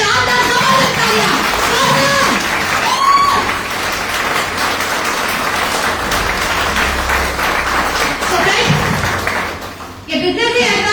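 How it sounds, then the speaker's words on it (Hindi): An event crowd at a network marketing business seminar bursts into loud, sustained clapping that fills the room, fading briefly near the end. "एक जोरदार शानदार जबरदस्त तालियां।"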